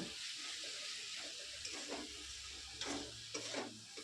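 Pav bhaji masala with coriander powder, cumin powder and a little sugar being stirred and fried in a pan; a soft, steady sizzle with occasional scraping strokes of the spoon, fairly quiet and close.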